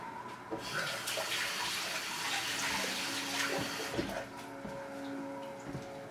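Tap water runs steadily from a faucet as hands are rinsed clean after breading chicken for chicken milanese with egg and breadcrumbs, a continuous close splashing flow with small knocks of hands and sink, no talking.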